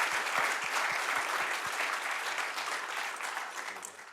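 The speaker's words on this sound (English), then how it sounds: "So let's first of all give him a round of applause" Full, dense applause from a World TB Day symposium audience honoring the organizer, loud and sustained with a few heavier claps early on, easing slightly toward the end.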